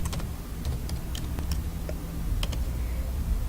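Rapid, irregular keystrokes on a computer keyboard while Python code for a fruits list is typed, crisp clicks and taps close by over a low background hum, no voices.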